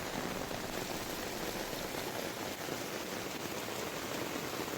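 Steady rain pours down in Uttarakhand, a dense, even hiss of drops hitting surfaces that stays loud and unbroken throughout, with no voices.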